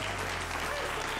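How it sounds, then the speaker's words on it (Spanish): A television talk show studio audience gives a loud, dense burst of clapping to welcome a guest, filling the whole short stretch with steady, close applause. "Recibamos con un fuerte aplauso a Charly Sa."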